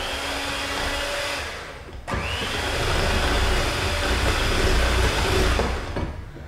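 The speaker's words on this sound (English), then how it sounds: "Go ahead and add our coconut in. We're going to kind of blend this up." A blender whirs steadily, mixing banana bread batter with coconut; the motor cuts briefly and then restarts, running loud and close for several seconds.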